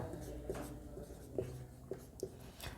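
During a chemistry lecture, a pen or chalk writes in a series of soft, short scratching strokes at an irregular rhythm, faint and close in a quiet classroom.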